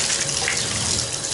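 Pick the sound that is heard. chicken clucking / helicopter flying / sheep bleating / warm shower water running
warm shower water running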